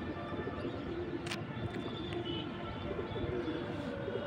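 Pigeons coo on a house roof, soft throaty calls repeating over a steady low background hum, with a brief sharp click partway through.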